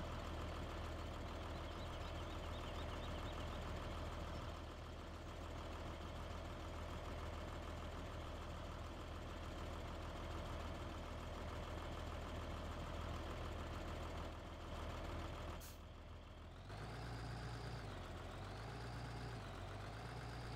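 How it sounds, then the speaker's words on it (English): A tractor engine in Farming Simulator 17 drones steadily at a low idle-like hum while shoving another tractor out of mud, then shifts pitch and revs unevenly near the end, faint and alone. "Just going to gently shove this tractor."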